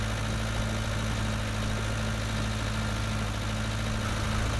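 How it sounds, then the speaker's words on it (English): Tractor engine in Farming Simulator 19, a steady, even drone under load while ploughing, continuous low hum with no voices. "The tractor has been ploughing a while."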